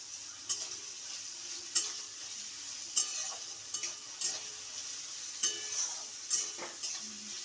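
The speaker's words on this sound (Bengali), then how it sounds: "এটা ভাজা ভাজা হচ্ছে।" Vegetables fry in a pan for vegetable dal with a steady soft sizzle, broken by repeated metal scrapes and clinks of a spatula stirring against the pan.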